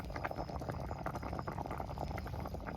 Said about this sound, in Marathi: उकळलाय ना आता चांगला रसा. चांगला उकळलाय ना.